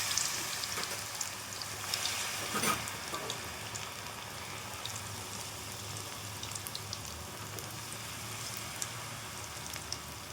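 Cauliflower fritters fry in a pan of hot oil, giving a faint, continuous crackling sizzle with a few small pops, and no voices.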